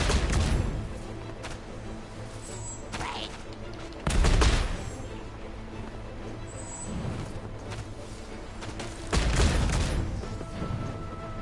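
Carpet-bombing explosions in Genshin Impact, heavy booming blasts landing in several bursts with rumbling rolls between them, loud and broad.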